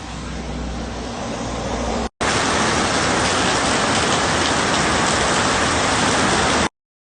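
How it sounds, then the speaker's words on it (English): Light rain falls in a steady, close hiss of drops on surfaces, broken by a brief silent cut partway through before it resumes and then ends abruptly. "So it started to rain a little bit. Not too hard"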